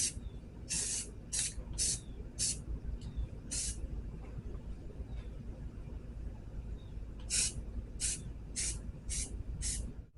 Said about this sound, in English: I definitely can't spray with this hand